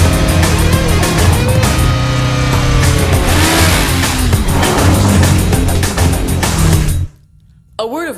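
A TVS Apache RTR 160 motorcycle engine revs loudly and continuously, rising and falling in pitch, while a narrator talks over it, then cuts to near silence with a short final sound.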